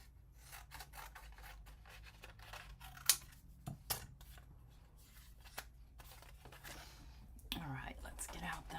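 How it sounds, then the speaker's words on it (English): Scissors cut pieces out of white card stock close by, with irregular snips and scraping rasps under soft, quiet talk. "I can probably cut them right out of this piece right here"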